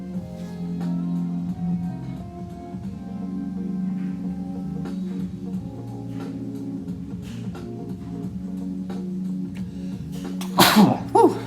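A single sharp sneeze bursts out near the end, loud and close, after a long stretch of steady low humming background.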